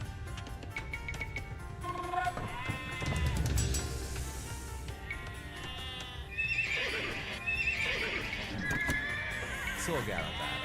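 In the Age of Empires II game, horses whinny and neigh several times over hoof clip-clop and other game sounds, with a voice talking throughout.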